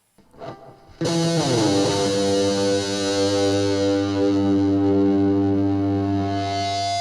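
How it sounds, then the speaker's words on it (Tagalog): Heavily distorted electric guitar chord rings out loud and sustained after a brief muted lead-in, thick with harmonics, in a rock cover with an effects-unit tone. "Tapang ng tunog ng distortion ni Master Chief."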